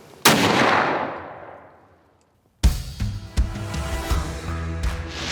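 A single sharp gunshot during a late-season deer hunt cracks loudly and rolls away in a fading echo, followed after a brief lull by a burst of close rumbling, rustling noise.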